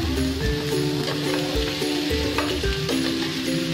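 Garlic butter shrimp sizzling in a hot pan, a steady close crackling fry with faint stirring scrapes throughout.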